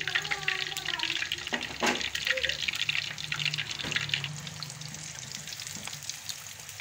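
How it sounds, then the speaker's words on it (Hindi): Fish pieces coated in gram flour, garlic and ginger paste fry in oil with a continuous moderate sizzle that has a watery, running hiss throughout, with a few soft knocks. "ये अच्छी तरह फ्राई हो चुके हैं"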